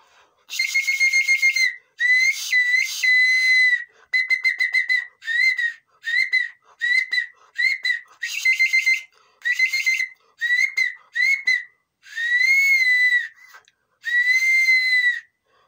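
A handmade whistle blown in a series of short and longer shrill toots with brief pauses between, clear and close, some notes bending in pitch.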